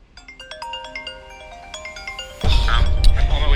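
An incoming call's melodic ringtone plays in rising, repeated notes, then a loud burst of wind-like noise swamps it; the phone rings outdoors on a beach walk in San Francisco.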